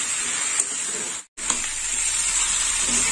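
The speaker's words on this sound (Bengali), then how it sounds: "তরকারিটা ভালো করে কষে নেবো" Chichinga and potato curry sizzles and fries steadily in a pan while being stirred, a continuous close hiss with a brief clatter and a short gap in the middle.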